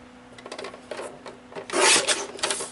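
Paper being trimmed to size for a handmade mini album, a few soft rasping cuts followed by a louder, longer scrape near the end, close and alone with no talking.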